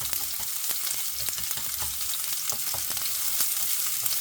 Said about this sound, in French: j'ai de l'ail et des oignons que je mets dans un peu d'huile d'olive